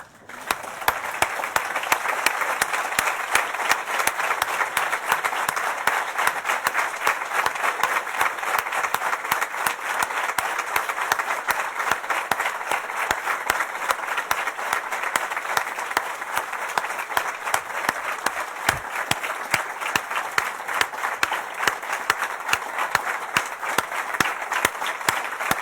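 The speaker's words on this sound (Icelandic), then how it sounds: "Öllu þessu fólki ætla ég að biðja ykkur að standa upp og klappa fyrir og þau sitja á meðan." Sustained applause from a standing audience honouring retiring members of parliament, thick and continuous clapping holding loud and steady throughout.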